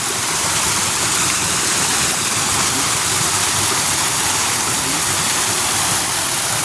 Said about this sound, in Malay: Dan inilah keindahan air bukit kita, Prena.